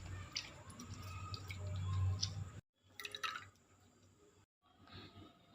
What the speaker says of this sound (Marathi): हे चांगलं दाबून चांगलं त्यातलं पाणी सगळं काढून घ्यायचं.